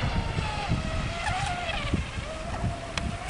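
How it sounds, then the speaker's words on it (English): A motorboat runs up the Swan River near the Maylands Yacht Club, giving a thin, steady buzzing whine over low rumble and lapping background noise, heard at moderate distance. "And there's a boat going up the river."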